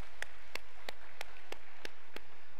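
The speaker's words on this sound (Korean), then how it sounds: "박수" Seven evenly spaced, crisp claps ring out one after another in a steady rhythm at a prayer meeting in a prayer retreat hall, with no talk over them.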